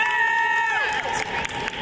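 A youth boys' team cheering squad roars after a goal, a loud crowd cheer with shouting and high voices that slowly trails off, with some clapping mixed in.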